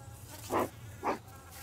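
Honeybees buzzing around an open hive during a check, a steady insect drone with two brief swells as bees pass close to the microphone, moderately faint, no talk.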